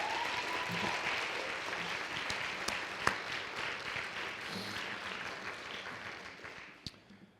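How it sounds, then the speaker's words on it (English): Audience applause for standing faculty members at a university thesis competition, sustained clapping from a sizable crowd with a few sharp louder claps, gradually tapering off near the end. "would you please stand so that we can applaud you"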